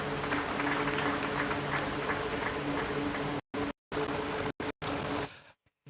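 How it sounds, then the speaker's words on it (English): An audience at a formal event applauds after the welcome of the Managing Director of Fidelity Bank Ghana. The clapping is dense and sustained, then breaks off in sudden cuts before fading out. "Please do a big round of applause."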